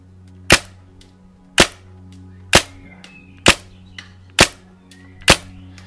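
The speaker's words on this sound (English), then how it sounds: "So I'll have the TMC sound here." A Planet Eclipse EMF100 paintball marker fitted with a TMC magazine fires six sharp, loud shots, evenly spaced about a second apart, each a crisp snap over a faint steady background hum, with no talking.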